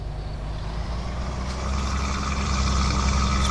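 Simulated Mercedes-Benz Actros truck in Euro Truck Simulator 2 hauling used packaging, a deep steady diesel engine drone that swells louder partway through, with a thin high whine above it.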